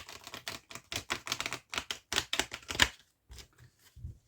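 A deck of tarot cards is cut and riffled by hand, giving a rapid run of crisp, close papery flicks and taps that stop abruptly, followed by a few softer shuffles.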